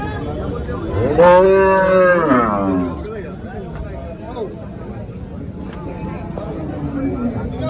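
A cow at a busy cattle market for HF and Jersey cows gives a long, loud, drawn-out moo that rises and falls over about two seconds. Someone speaks nearby and market noise continues around it.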